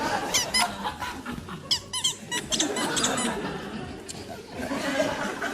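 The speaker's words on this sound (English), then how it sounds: "You've got some very squeaky chairs." Squeaky chairs creak in short, repeated high squeals at close range while someone shifts about, mixed with faint chuckles and murmured voices from a small audience.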